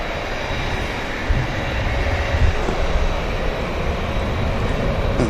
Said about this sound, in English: Long takeoff roll from the 2E.